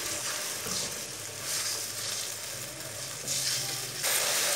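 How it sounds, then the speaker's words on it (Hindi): Ginger and garlic paste sizzles in a pan of lightly browned onions while cooking Kashmiri chicken: a steady, close hiss and crackle with occasional louder surges of sputtering, no voices. "अदरक और लहसुन को मैंने एक मिनट तक पका लिया।"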